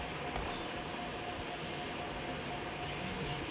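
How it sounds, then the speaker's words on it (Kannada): A rope-train cable car moves in the video game BGMI, giving a constant loud, dense mechanical rumble with no breaks. "ಇವ್ರಿ ರೋಪ್ ಟ್ರೈನ್ ಏನಿದೆ ಹೋಗ್ತಾ ಇದೆಯಲ್ಲ ಮೇಲೆ."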